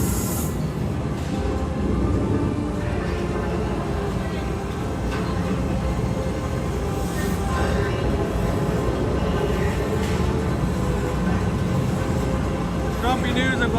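Train arriving at Hogsmeade station at Universal Orlando, a continuous loud rumble of rolling rail cars with a few brief squeals, heard under steady crowd chatter and people talking throughout.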